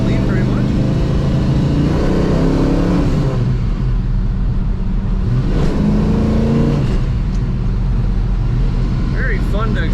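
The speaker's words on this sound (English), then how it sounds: "Very fun to accelerate and shift in this car." A 1969 Chevrolet Nova two-door sedan accelerates from inside the cabin, its engine rising in pitch and then dropping back as it shifts gears twice, loud and close with a voice talking over it throughout.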